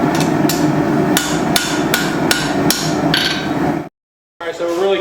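Hammer blows shape a spring steel cleaver at the forge, a quick series of sharp metallic strikes spaced closely and evenly, followed by a brief silence and then a few more ringing knocks.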